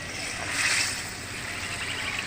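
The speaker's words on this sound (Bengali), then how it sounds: "আমি এবার একটু ফুটিয়ে নেব।" Water with cabbage and egg simmers in a pan, giving a soft, steady hiss with faint bubbling, close and even throughout, and no speech.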